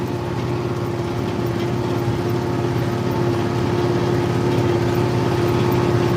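An International 4786 tractor engine drones at a steady, heavy low pitch, continuous and close with no pauses.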